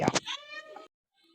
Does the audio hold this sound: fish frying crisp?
no